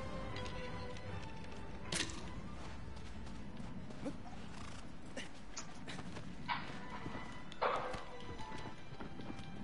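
A horse's hooves clip-clop in an uneven series of sharp knocks, with a few louder strikes standing out over a constant background hiss.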